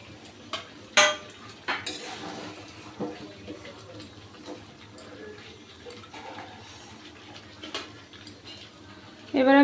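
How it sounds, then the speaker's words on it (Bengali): Fried potatoes go into a pan of chicken and get stirred, with scattered metal spoon scrapes and clinks against the pan, a few sharper knocks, and a louder clatter at the very end, close by. "এবার আমি ভেজে রাখা আলুগুলো দিয়ে দেবো"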